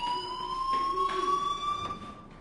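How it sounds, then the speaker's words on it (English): A fire alarm ringing in the game Life Is Strange, a steady high electronic tone sounding continuously and moderately loud, alone with no talk. "do you hear that fire alarm?"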